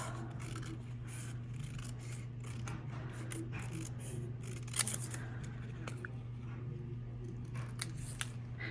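Scissors trimming paper at a craft table, giving soft, faint snipping and rubbing over a steady low background hum, with one slightly sharper cut near the middle.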